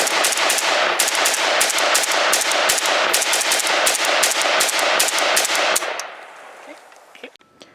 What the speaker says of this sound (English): let's first just run a couple of rounds through it at the range